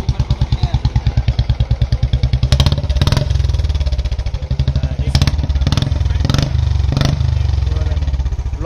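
A 2022 BS6 Royal Enfield Bullet Standard 350 idles and revs through a narrow-mouth silencer, giving a loud, close, rhythmic thumping exhaust beat with several sharp throttle blips rising over the steady pulse.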